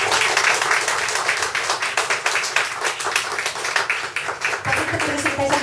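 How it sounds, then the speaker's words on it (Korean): Indoor audience at a poet's book concert applauding a speaker's introduction, dense steady clapping from many hands throughout, fairly loud and close, with a brief shift near the end. "큰 박수로 모시겠습니다"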